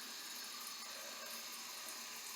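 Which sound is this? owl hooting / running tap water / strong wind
running tap water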